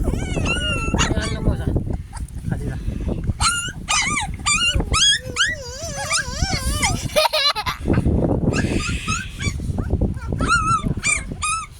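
Several cute puppies, one looking like a Doberman, whimper, yip and yap in rapid high-pitched bursts close by in countryside, while people talk over them throughout.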